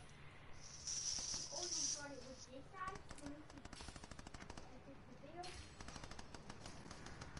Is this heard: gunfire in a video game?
yes